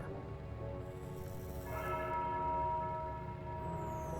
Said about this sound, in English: The tolling of a bell!